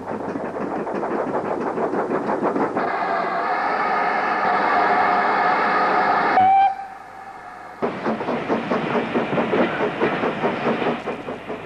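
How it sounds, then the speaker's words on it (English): A steam-hauled service train runs along the Cambrian line beside an estuary, its rhythmic clatter and exhaust loud and steady, broken midway by a long whistle-like tone, then a brief lull before the chuffing running resumes. "We now join a service train travelling down the Dubby Estuary towards Mahuntleth."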